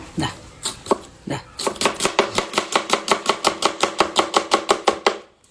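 A knife chops an onion on a board in fast, steady strokes, starting with a few uneven cuts and then settling into a crisp, even rhythm of close, loud knocks.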